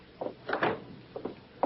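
A door swung shut as a radio drama sound effect, a few soft wooden knocks and thumps close by, quiet and alone with no talking.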